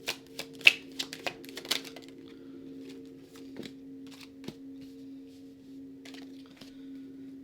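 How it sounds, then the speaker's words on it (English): Tarot cards for a Celtic cross spread are handled close by: a burst of quick riffling snaps at the start, then sparse soft card flicks over a faint steady hum. "give me the last four cards here for this Celtic cross"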